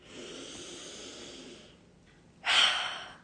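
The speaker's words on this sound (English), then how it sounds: "Deep breath in." One deep breath drawn in slowly, soft and close, then a brief pause before a louder, airy exhale.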